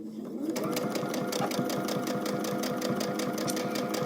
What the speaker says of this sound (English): So now I'm going to be sewing again that scant 1/4 inch with the line directly under my blade.